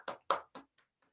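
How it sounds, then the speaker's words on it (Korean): A few hands clapping after a lecture, three distinct near claps then two faint fading taps, sparse and brief rather than a full crowd roar. "너무 뜨거운 박수 감사드리고요"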